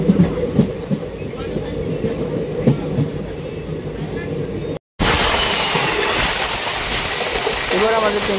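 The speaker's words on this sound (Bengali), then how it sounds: "এবার আমাদের ট্রেনটি শ্রীরামনগর স্টেশনটাকে ক্রস করে গেল" An express train runs at high speed, its rolling roar and rapid clickety-clack of wheels over rail joints heard from inside a carriage, steady and loud, with a brief dropout midway.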